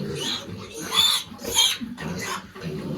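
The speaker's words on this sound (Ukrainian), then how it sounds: "Погляньте це хто в нас свинка." A young pig on a farm grunts loudly and close by in several rough bursts with short pauses between them.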